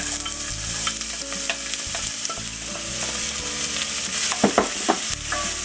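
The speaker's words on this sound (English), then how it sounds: "There's some olive oil in my pan, my pot. I'm going to add 1 onion." Onion frying in olive oil in a pot for stuffed cabbage sauce, a steady loud sizzle with utensil scrapes and clinks stirring through it, no voices.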